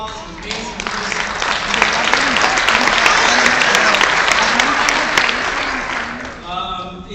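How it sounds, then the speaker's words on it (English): Loud, full audience applause at an award ceremony honoring a civil rights organization's executive director, a dense roar of many clapping hands swelling and holding steady before tapering off, with a few voices underneath. "Please also give Gloria Castillo another round of applause"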